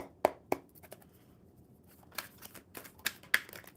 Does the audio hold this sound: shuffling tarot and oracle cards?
yes